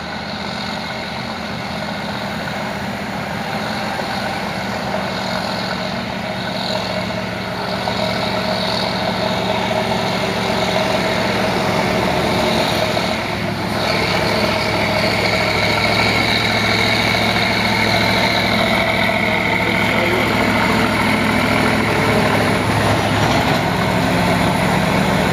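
A Fuso intercooler dump truck labors up a steep hill, its diesel engine droning loud and close in a continuous, steady roar that builds slightly over time.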